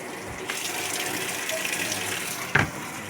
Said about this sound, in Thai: ใส่น้ำเข้านะครับ